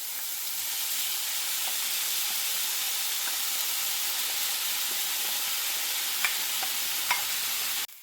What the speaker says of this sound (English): I'm going to go ahead and saute these. Now I'll be adding the saltfish.